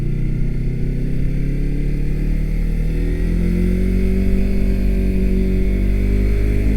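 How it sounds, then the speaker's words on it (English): Yamaha R3 motorcycle riding along a canyon road near Malibu, its engine droning steadily and close with a rising pitch as it accelerates, under constant wind rush. "I'll just give you guys a second just to hear the bike and see the canyon road"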